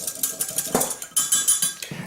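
Salt being stirred into a chicken breast seasoning mixture, a spoon clinking and scraping against the bowl in quick, uneven strokes, close and moderately loud with no talking.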